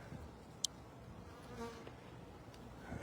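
A large honeybee swarm hums as a soft, continuous low buzz in the background, faint and steady, with a brief sharp click near the start.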